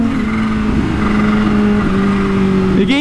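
A Kawasaki Ninja H2 motorcycle on a night ride, its engine droning loud and close, holding a steady pitch before a brief dip and a rising rev near the end.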